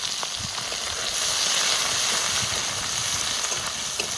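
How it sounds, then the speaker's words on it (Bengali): Chopped onion sizzles steadily in hot oil with cinnamon, cardamom and clove, a dense, close frying hiss with faint stirring clicks and no voices. "দারচিনি, এলাচ, লবঙ্গ, ফোড়নের মধ্যে দিয়ে দেবো প্রথমে কুচানো পেঁয়াজ।"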